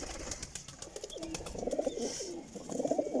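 Pigeons coo in low, repeated rolling phrases amid a loft of peepal and golden crossbred racing pigeons, with rustling and faint chirps around them and no talking.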